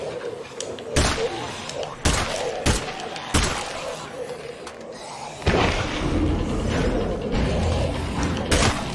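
Sharp gunshots crack out in bursts during a State of Decay 2 zombie fight, several loud broadband bangs spaced a second or so apart over a busy game soundscape, with a voice talking throughout.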